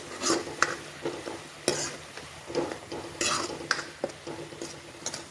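A prepared spice paste is stirred into a pan of cooking vegetables for a home-style sabzi, with soft, uneven scraping and clinking strokes of a spoon over a faint sizzle, close by and fairly quiet.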